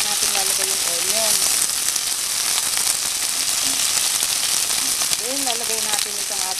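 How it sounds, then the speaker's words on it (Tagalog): Garlic and onion sizzle in hot oil in a pan, a loud, steady frying hiss that runs throughout, while a voice speaks briefly over it now and then. "Pag brown na yung garlic, saka natin lalagay yung onion."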